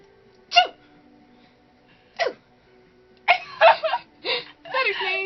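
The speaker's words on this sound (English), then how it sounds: "Stutter sneeze." A person's broken, stuttering sneeze, with short sharp bursts separated by pauses that then cluster into several rapid catches near the end, close and fairly loud against a quiet background.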